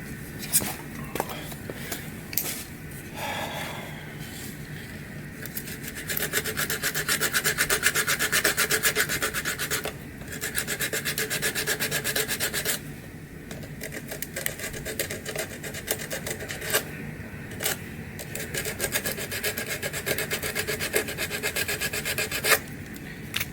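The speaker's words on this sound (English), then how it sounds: "Kind of sanded that leading edge off there a little bit to make it a little bit thinner. This is like 80 grit." 80 grit sandpaper rubs the leading edge of a part on a 2005–2009 Ford Mustang GT, giving a continuous close, gritty scraping in steady back-and-forth strokes that runs nearly the whole time, with brief pauses and a few taps.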